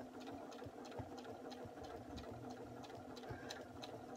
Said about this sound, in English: So I'm going to do a few stitches in place, and then I'm just going to start stitching.